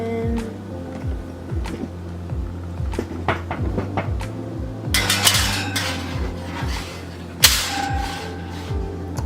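Metal tray of kale chips slid into a preheated home oven, with clattering knocks, rattles and a scraping slide, then a sharp bang near the end as the oven door shuts, all close up.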